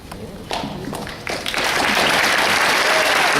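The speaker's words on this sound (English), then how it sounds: "You should applaud." Audience at a Comic-Con panel for Superman's 75th anniversary breaking into applause, a few scattered claps swelling within seconds into loud, sustained clapping from a large crowd.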